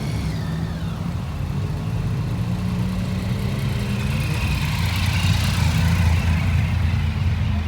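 Motorcycle engines of every shape and size, including a 125, idle and rumble steadily nearby at a charity ride gathering, with a low throbbing drone and occasional revving swelling toward the end.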